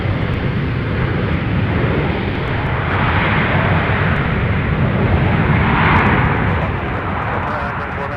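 An Embraer jet landing at MSP airport gives a loud, steady roar of engine and rushing air that swells and fades slightly, with speech over it.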